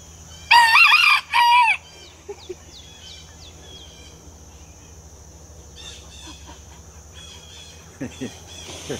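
A rooster next to a newly built chicken tractor crows loudly in two close bursts, then goes quiet. Faint clucks and brief voices follow, with a steady insect-like hum underneath.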